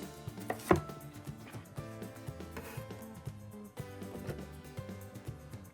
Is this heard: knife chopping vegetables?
yes